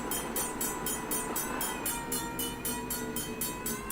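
Freight train with a red caboose at the rear rolling past a crossing, steady rumble with rhythmic wheel clicks repeating roughly every third of a second, no voices.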